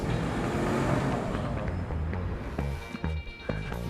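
A Nissan Altima with a VC turbo engine drives past, a moderate road and engine hum with traffic texture, fading toward the end with a few short knocks and bumps.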